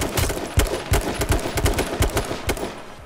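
Enemy gunfire in an online shooter video game rattles out as a continuous run of rapid, close shots, loud and unbroken for the whole stretch.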